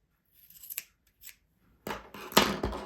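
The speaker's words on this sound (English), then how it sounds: "if you get your scissors, snip that off so it's level" Scissors snip crochet yarn, several crisp close cuts spread out in quick pairs, louder toward the end, with no talk.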